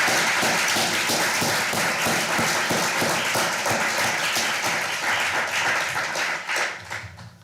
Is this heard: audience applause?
yes